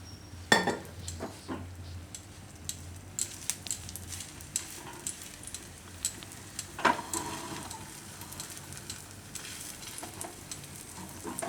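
A paratha made with a spinach and potato curry filling roasts in oil on a griddle over low heat, giving a soft steady sizzle broken by occasional clinks and scrapes of a utensil.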